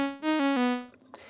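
A Serum saw-wave synth patch plays without its low-pass filter, producing bright, buzzy harmonic-rich tones in a short descending sequence of three or four notes that fades out.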